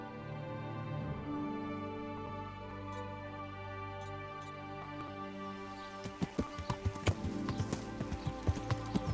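Steady horse hoof clip-clops in a quick trotting rhythm in the video game Kingdom Come: Deliverance, growing louder and sharper toward the end over a sustained musical backdrop.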